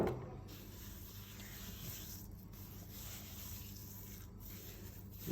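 A dry pepper, salt and garlic powder spice rub is worked by hand into an oiled raw brisket, giving a soft, steady rubbing and scraping that stays faint and continuous, close by, with no talk.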